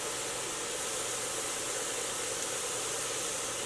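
Chili pepper sauteing in a pan, a steady close sizzling hiss that holds evenly throughout with no other sounds.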